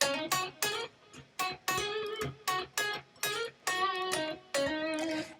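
Neo-soul R&B electric guitar plays short staccato notes, each muted right after it is struck, giving a choppy, snappy rhythm of about a dozen clipped stabs with brief silences between them, close and alone.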